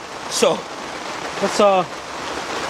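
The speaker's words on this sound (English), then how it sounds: "It is pouring out here." Steady broadband hiss of heavy rain pouring outdoors, filling the background under someone talking while working on a 2006 Kia Sportage EX 2.7 engine rebuild.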